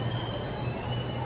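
An underground Pune Metro train pulling out of a station, a steady loud rumble topped by thin high wheel squeals, continuous and close with no voices.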